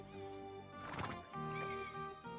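A horse in the medieval video game Kingdom Come Deliverance 2 lets out a clear, drawn-out neigh and whinny near the listener, with faint background ambience and no speech.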